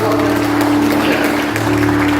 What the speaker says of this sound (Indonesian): Tepuk tangan untuk Allah kita, saudara.